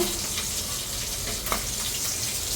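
Eggplant and green chilies frying in hot oil, giving a steady, close sizzling hiss that runs without a break, with no talking.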